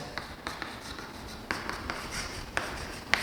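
Pen or chalk writing out a maths solution for a differential equation, with a steady scratching stroke broken by sharper taps at about 0.2, 0.5, 1.5, 2.6 and 3.1 seconds, close and moderately quiet, with no talk.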